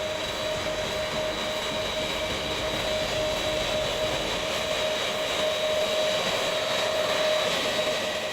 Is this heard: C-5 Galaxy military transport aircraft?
yes